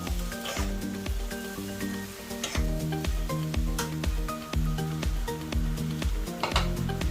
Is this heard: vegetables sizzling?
yes